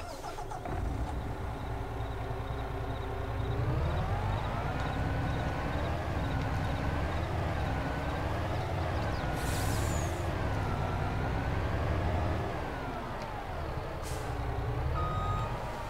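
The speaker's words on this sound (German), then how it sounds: "ich drehe mal ganz kurz eine Runde, dann hört ihr, das ist der normale Motor eigentlich" A MAN truck engine in Farming Simulator 22 drives a loop, its steady diesel drone rising and falling as the revs change, with a brief hiss of air brakes and faint reversing beeps near the end.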